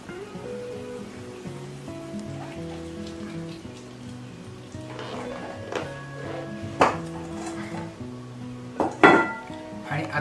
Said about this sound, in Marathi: आपला पाक इथे तयार आहे. हा लगेचच मी ह्या मिश्रणावरती ओतून घेणार आहे.